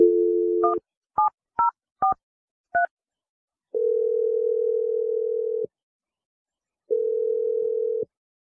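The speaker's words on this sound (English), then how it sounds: "I'm going to dial the phone number" Telephone touch-tone dialing: a quick series of six short two-tone keypad beeps after a brief steady tone, followed by two long ringback tones separated by silence, clear with no voices.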